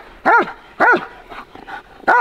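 A German Shepherd police dog barks in loud, close bursts, three strong barks with softer whining sounds between them.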